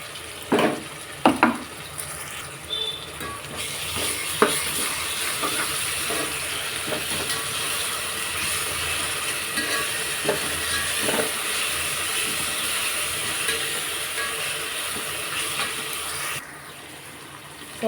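Onions fry in a pan with a continuous sizzling hiss, while sharp scraping and clinking from stirring come through at irregular moments.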